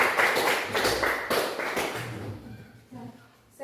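Classmates applaud a fellow student in a school classroom, a short burst of close, dense clapping that fades out after a couple of seconds.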